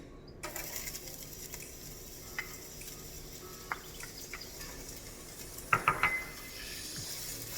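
Onions stirred in a hot pot, with clinks and scrapes of a utensil against the pot over a low steady sizzle, including a brief cluster of louder knocks near the end; no talking.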